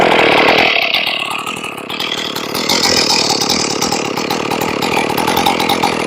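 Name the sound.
Stihl 461 chainsaw started and running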